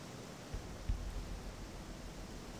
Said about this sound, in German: Wir hören hier einen reisenden Fluss